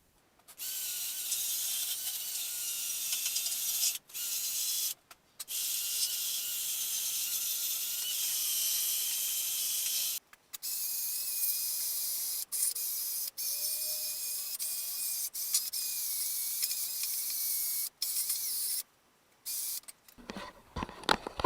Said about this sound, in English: So I'm gonna prop this camera up and get going on the sanding.